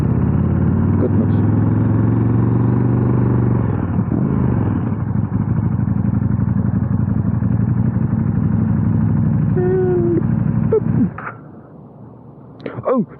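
A 2019 KTM 1290 Super Duke R Gen 2 engine pulls loudly and steadily on the move, its revs rising and dropping through quick-shifted gears before fading out near the end, with wind rush and brief noises after.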